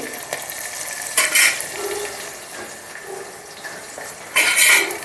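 Green chilies and curry leaves being stirred in hot oil in a pan while making tamarind pongal, with a steady low sizzle and bursts of louder scraping and clinking around the start, middle and end.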